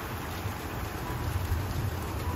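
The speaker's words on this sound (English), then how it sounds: "it's been constantly raining off and on." Steady rain pours down during a severe storm, a dense, even hiss that fills the whole stretch without a break, close and fairly loud, with no voices over it.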